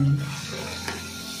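Oil sizzles softly as puris fry in a pan, a steady quiet frying hiss with a brief stir or clink partway through.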